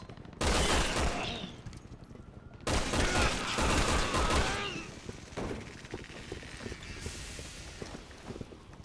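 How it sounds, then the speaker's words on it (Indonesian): Rapid bursts of automatic gunfire from a Resident Evil Revelations game session, two loud sustained volleys followed by scattered shots and softer game noise. "Iya, aku ditembak Raymond ini bro"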